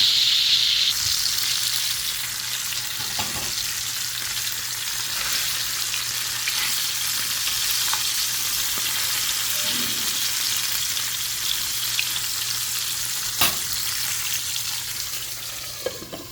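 Cauliflower pieces fry in hot oil in a pan, giving a steady, close sizzle that runs throughout, with a few faint clicks of utensils and no talking.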